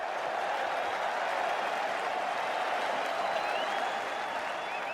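A cricket crowd at The Oval applauds and cheers England regaining the Ashes in 2005, a sustained, dense wall of clapping with a faint murmur of voices beneath it.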